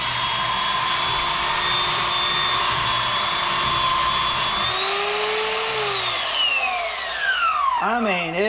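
A VEVOR belt sander on a bench mount runs with a loud, steady motor whine, then winds down near the end as the pitch drops and wavers.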